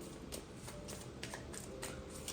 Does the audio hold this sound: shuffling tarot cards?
yes